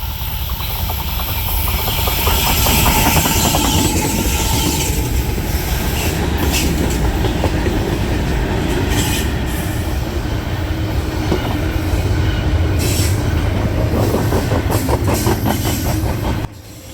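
A freight train pulled by four diesel locomotives, including Dash 9 units, rolls past on the rails with a loud, continuous rumble, clacking wheels and squealing steel, close and steady before dropping off at the end.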